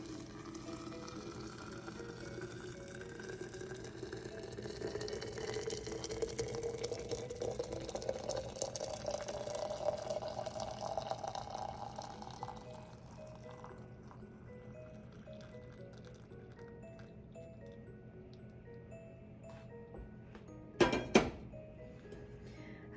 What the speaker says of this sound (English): We just pour it over the herbs.